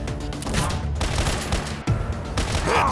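Dense video game gunfire from a mobile heist shooter set in Chicago, loud continuous rattling shots with brief gaps, close and dominant.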